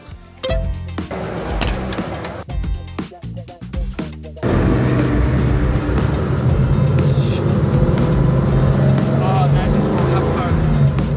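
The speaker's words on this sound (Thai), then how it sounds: "It's a cup car, but it has only 260 horses, so not so much power." A Porsche Cup race car with about 260 horsepower drives at the Red Bull Ring, its engine droning loud and steady, with choppy gear changes and shifting revs early on before settling into a sustained high roar.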